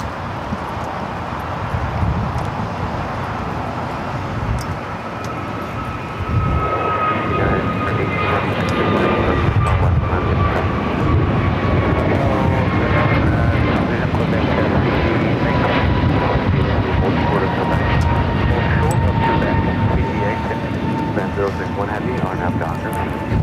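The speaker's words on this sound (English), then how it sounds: "The flight taking off. American Airlines flight 2018 heading to Philadelphia at A321 Neo." An American Airlines Airbus A321neo takes off at Los Angeles International Airport, its jet engine roar swelling from a distant rumble into a loud, sustained drone with a rising whine, while a voice talks over it.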